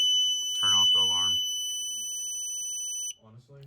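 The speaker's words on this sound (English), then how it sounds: "So he's going to trigger the alarm. That should, start going off" A demo home-control hub sounds its alarm, a piercing steady high electronic tone held for about three seconds, while people speak nearby before and after.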